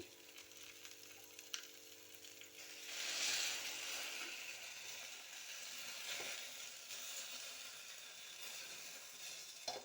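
Egg mixture is poured over bread in a hot pan, and a loud, steady sizzle swells after a few seconds and keeps hissing to the end, with a couple of soft knocks.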